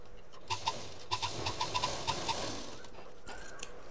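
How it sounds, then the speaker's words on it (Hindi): A sewing machine stitches a handbag seam on a zipless bag, a quick run of evenly spaced mechanical ticks up close that slows and stops, with a low room hum behind it. "ये जो लाइन आई इस पर हम मशीन चला देंगे"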